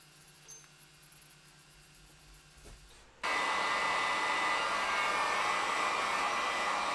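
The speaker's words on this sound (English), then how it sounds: "I went ahead and made short work of it with my heat gun" A heat gun drying white base-coat paint on wooden eggs and bunny cutouts switches on after about three seconds of quiet room tone, then roars with a steady, loud, close blowing hiss to the end.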